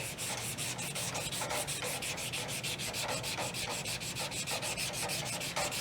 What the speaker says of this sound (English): so you guys can have an even stroke on the sandpaper